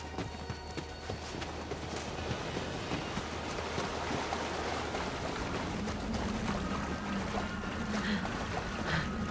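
A waterfall in the video game Borderlands 3 rushes in a constant, broadband roar that holds steady throughout, with no speech over it.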